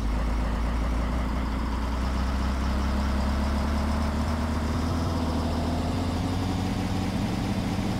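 A car engine idles steadily, a low, even rumble with a constant mid-range drone that holds without revving for the whole stretch.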